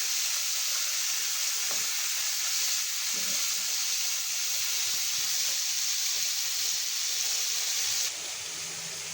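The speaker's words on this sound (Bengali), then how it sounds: "এবার আমি মাছটাকে খুব ভালো করে ভেজে তুলে নিব" Fish frying in hot oil gives a steady, loud sizzling hiss that runs unbroken and close, dropping a little in level near the end, with no voices.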